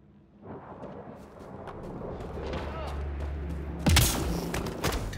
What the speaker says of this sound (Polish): Znowu wali błyskawicami.